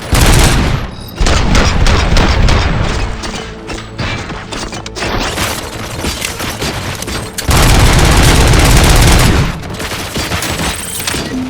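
Loud, sustained gunfire fills a firefight in the video game Robocop Rogue City, with rapid automatic bursts and heavy booms overlapping almost without pause, briefly easing before surging again.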